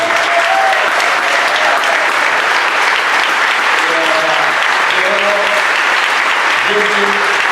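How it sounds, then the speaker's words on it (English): A large audience at a Hall of Fame ceremony delivers loud, sustained applause, a thick unbroken roar of clapping with faint voices and cheers mixed in beneath it. "give you a round of applause"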